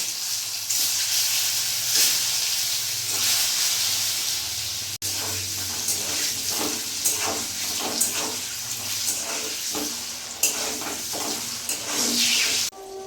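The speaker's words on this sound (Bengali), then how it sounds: "এরপরে ডিমগুলো ছেড়ে দেবো" Eggs fry in hot oil seasoned with salt and turmeric, a continuous hissing sizzle with soft crackles and a few sharp clicks, close up and without speech.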